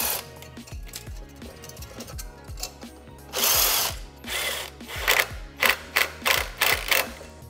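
A ratchet wrench tightens clamps on a Mercedes SL55 AMG, giving rapid close clicking that speeds into buzzy runs and then short repeated cranks, with no talking.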